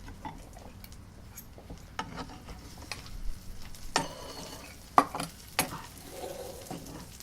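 Onions are stirred and flicked in a frying pan with a spoon, giving soft steady sizzling under scattered scrapes and light metallic knocks, close and fairly quiet.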